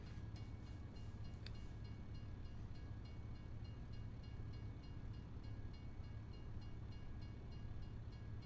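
A train in a farming simulator video game rumbles past on nearby tracks with a faint, steady low drone and a brief high tone near the start, heard alone.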